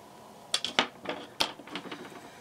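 A few sharp clicks and snips at close range, wire leads being cut short with cutters during desoldering of an electronics board, isolated bursts over a quiet background.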